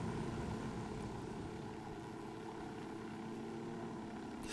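Helicopter in the video game Ghost Recon Wildlands, a steady, low rotor and engine drone held evenly throughout with no talk over it.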